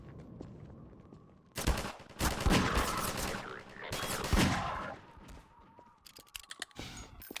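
Gunfire in the video game Half-Life 2 comes in two loud bursts of rapid shots, with scattered sharp clicks and faint quieter shots between and after them.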